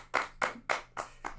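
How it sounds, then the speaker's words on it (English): Five sharp hand claps from one person, evenly spaced about a quarter second apart, close and dry, delivered in a slow mocking rhythm. "Why'd you clap for me?"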